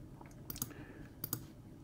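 Computer mouse clicks in embroidery software, a few sharp, close, quiet clicks in quick pairs over a low room background.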